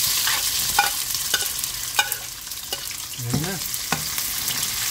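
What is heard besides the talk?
onions frying in a pan for chicken dinuguan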